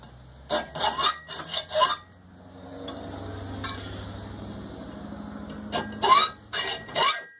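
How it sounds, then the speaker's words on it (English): Hacksaw cutting a deep notch into a primed 308 brass cartridge case, heard as bursts of quick rasping back-and-forth strokes, first a group, then a pause with a low hum, then another group of close, sharp strokes. "a decent hacksaw, and a bared and primed 308 case. Make a nice deep notch."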